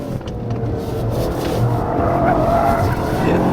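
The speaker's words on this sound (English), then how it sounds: "All-wheel drive, just lighting the tires." An all-wheel-drive BMW M5 spins its tires hard, a loud continuous squeal over a deep, steady engine roar, close and sustained with no talking.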